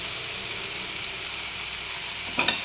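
Onions and green chillies frying with salt in a pan, a close, steady sizzle and crackle with a couple of brief clatters near the end.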